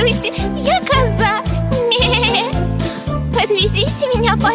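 A voice imitates a goat's bleat, a wavering, quivering call repeated over a bouncy musical backing with jingling bells.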